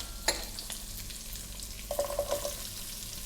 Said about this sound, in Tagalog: lulutuin na natin yung ating carrots